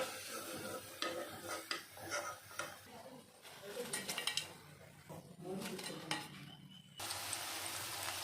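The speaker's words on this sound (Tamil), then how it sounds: "அடுத்த பஜையும் போட்டாச்சு இதையும் நம்ம ஃப்ரை பண்ணி எடுத்துக்கலாம்" Cabbage pakoda batter fries in hot oil with a steady sizzle, while utensils stir and clink against the pan in short bursts and a voice talks in the background.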